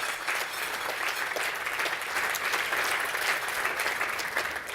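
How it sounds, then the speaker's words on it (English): Audience at a national practitioner roadshow presentation applauding, a steady, even wash of clapping from a crowd indoors, moderately loud and sustained throughout with no talking. "Give them a round of applause."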